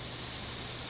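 Close, steady airbrush-style spray from a model paint sprayer fed by a compressor, a continuous even hiss filling the short moment with no talking.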